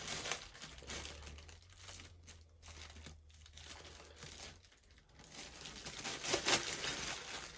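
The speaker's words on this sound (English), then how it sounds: "obviously you got to take the plastic off" Plastic wrapping is peeled and crinkled off a new touch-activated table lamp, close and fairly quiet, with a run of rustling and crackling that pauses briefly and then resumes.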